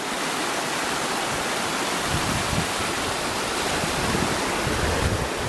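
Steady, full rushing of flowing river water, constant and close, with no voices.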